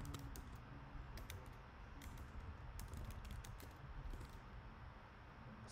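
Rapid clicking of keystrokes on a computer keyboard, steady and close, with a few louder key strikes scattered through and no voices.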